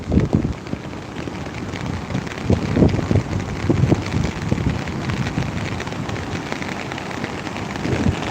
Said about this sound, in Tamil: மழை இந்த இந்த டைரெக்ஷனில் தான் அடிக்குது